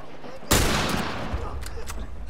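A sudden loud gunshot in The Last of Us on PS4, followed by a ringing tail and a couple of fainter shots.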